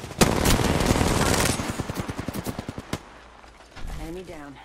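Automatic weapon fire in Apex Legends, a sustained loud burst that breaks into distinct rhythmic shots and then stops, followed by a short stretch of voice.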